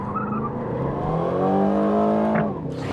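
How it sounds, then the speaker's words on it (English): New Aston Martin Vantage with a V8 engine and loud exhaust pulls hard through its quick-shifting ZF gearbox. The engine note climbs as it revs and swells toward a loud roar, with no talking over it. "Got the exhaust, the loud exhaust on, sounds fantastic, really, really emotive V8 soundtrack."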